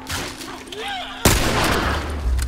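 Gunfire in The Last of Us video game, an abrupt close shot that cuts in sharply and leaves a dense rumbling tail.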